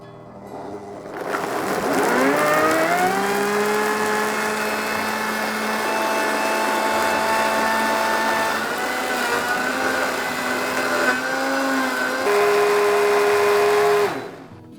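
A Froothie Optimum 9200A Vortex blender whirs loudly and steadily as it purees frozen black currants and avocado, its motor pitch dipping and settling as the mix thickens before it spins down.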